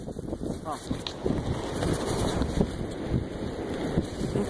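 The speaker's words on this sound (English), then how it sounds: "the wind is picking up" Gusty wind buffets the microphone outdoors in a Kansas woodland during a mushroom hunt, a rough, rumbling roar that is loud and continuous throughout, with faint speech-like sounds mixed in.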